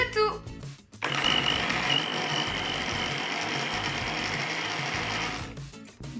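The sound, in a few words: blender mixing aloe vera cream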